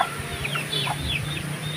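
Crossbred chickens, Rhode Island mixed with native fowl, cluck close by in a farmyard. Short, repeated clucks and chirps sound over a steady low background.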